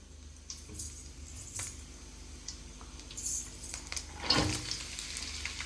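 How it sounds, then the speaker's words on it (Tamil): Soft sizzling of onions and carrots frying in oil, with occasional clinks and scrapes of a utensil stirring the pan. "அதே சட்டில இன்னும் கொஞ்சம் எண்ணெய் ஊத்திக்கலாம். நறுக்கி வச்சிருக்க கொஞ்சம் வெங்காயம், கேரட் போட்டுக்கலாம்."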